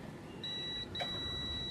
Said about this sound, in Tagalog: So may buzzer tayo. Check natin dito. Yan, nagbabuzzer.